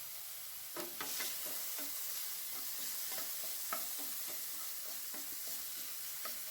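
Chopped ripe tomatoes, medium-sized and finely diced, stir-fry in a hot pan with a steady close sizzle, broken by the scrape and clatter of a spoon stirring at irregular intervals; no voices.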